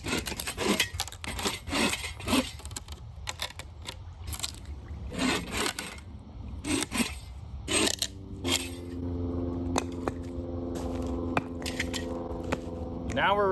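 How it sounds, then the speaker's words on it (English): Wood is cut up at a camp with no tent, giving repeated rhythmic rasping strokes, close and fairly loud, that give way to a steadier background toward the end. "I haven't cut up any wood yet."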